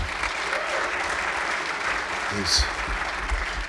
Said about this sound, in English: thank you for applauding him